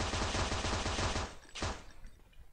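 Rapid automatic gunfire in the mobile FPS game MaskGun, a steady rattling burst that stops abruptly, followed by a single louder shot and faint trailing noise.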